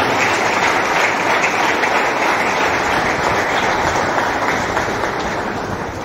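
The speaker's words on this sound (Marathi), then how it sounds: "सगळ्यांनी टाळ्या वाजवून परमेश्वराला धन्यवाद देऊया" A congregation at a charismatic prayer meeting breaks into steady, sustained applause, a dense wash of many hands clapping at once that holds at an even level for about six seconds with no talk over it.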